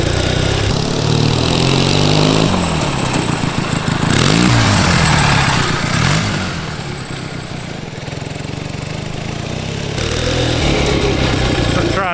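Homemade twin-cylinder, four-speed mini bike built from junkyard parts running in first gear, a loud close rough engine drone that revs, dips lower midway and picks up again, with some talk faintly under it.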